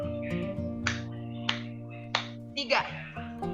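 Three crisp unison claps from a seminar audience, evenly spaced about two-thirds of a second apart over steady background music, then brief voices at the end.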